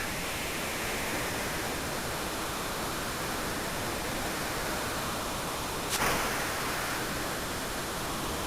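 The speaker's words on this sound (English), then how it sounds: "That raft stays perfectly balanced as they land over the waterfall." A waterfall in Final Fantasy VI roars as a steady, dense rushing wash that holds at an even loudness throughout, with one brief splash-like swell near the end.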